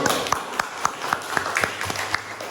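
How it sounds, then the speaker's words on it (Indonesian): Students in a classroom applauding a group presentation, a brief spell of scattered, moderately quiet clapping with distinct individual claps over a murmuring room. "Ya, tepuk tangan dulu."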